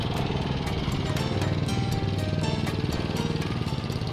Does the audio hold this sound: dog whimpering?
no